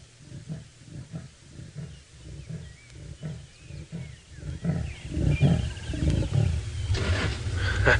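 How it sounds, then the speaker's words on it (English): A leopard roaring at dawn on a safari drive in the wild, a rhythmic series of deep, rasping sawing grunts that grow louder and denser toward the end, fairly close, with no talk. "Wonderful, another roar from the leopard."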